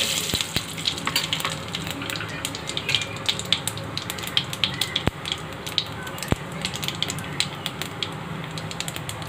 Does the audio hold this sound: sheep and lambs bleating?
no